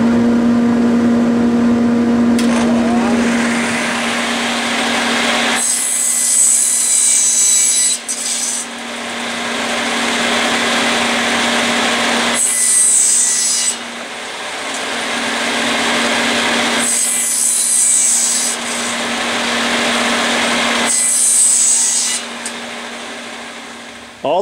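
Power saw cutting a wood board to length against a stop block in a cabinet-making shop, a loud steady whine with several long cut passes separated by brief drops, dust collector running throughout.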